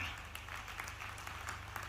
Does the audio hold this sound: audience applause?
yes